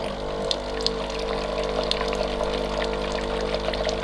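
Bosch Tassimo My Way 2 coffee machine running a rinse cycle, a steady pump hum with water pouring and trickling through continuously at close range, no talk over it.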